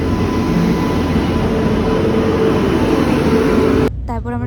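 Steady loud rumble and hiss of the Shatabdi Express, sustained and close, with a sudden change near the end as a voice begins to speak over it.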